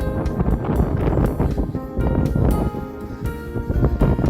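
Steady, gusty wind buffets the microphone outdoors by the sea in Devon, England, a constant low rumble with rustling swells and no clear pauses.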